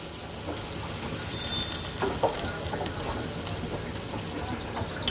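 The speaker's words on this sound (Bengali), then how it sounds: "এখন আমি সেদ্ধ করা জলটা দিয়ে আরেকটু কষাবো" Mutton curry sizzles and bubbles in a pan as it is sautéed with the boiled cooking water, a steady close frying hiss with occasional stirring scrapes and clinks.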